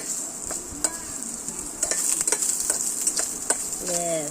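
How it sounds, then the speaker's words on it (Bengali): Onion frying in a pan, with a soft continuous sizzle broken by a spatula's scrapes and clinks as it is stirred, close and fairly quiet, plus a brief faint tonal sound near the end. "পেঁয়াজটা ভাজা ভাজা হোক"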